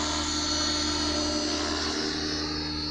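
A small beginner's helicopter, probably a model, hovers close by with a dense, steady whirring buzz of rotor and motor that holds level throughout.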